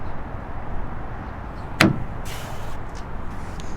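Tailgate of a 2022 Toyota Tundra 1794 Edition pickup gives a single sharp, close latch clunk, then a brief softer mechanical rustle as the heavy gate moves.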